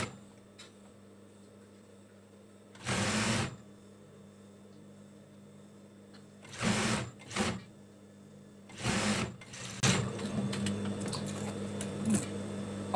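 A sewing machine stitches fabric to silicone padding for a baby blanket, running in several short loud bursts separated by quiet pauses, close by.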